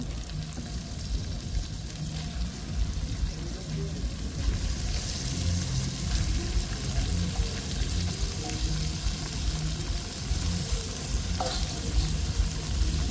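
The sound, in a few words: meat frying in a pan with spices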